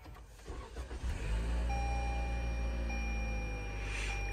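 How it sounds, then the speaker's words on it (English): 2021 Toyota RAV4 Adventure engine starting with a short crank, then catching and settling into a steady, smooth idle, heard from inside the cabin with a faint chime, no talking. "Let's start it up."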